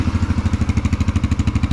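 A Yamaha TTR-125 dirt bike engine with a newly installed jet kit idles close by, a steady low, rapid thumping pulse with no voices.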